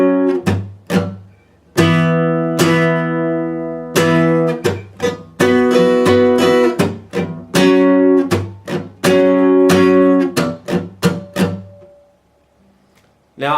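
Guitar plays the chorus slowly, a series of plucked chord strikes and single notes with ringing sustain and short gaps, close and clear with no voice.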